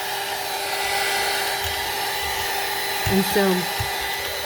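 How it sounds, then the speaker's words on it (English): A heat tool blows steadily over acrylic ink on a gelli plate print, a constant whirring airflow hum that runs close and loud throughout, with a brief word of speech near the end. "it'll dry for you if you use your heat tool on it"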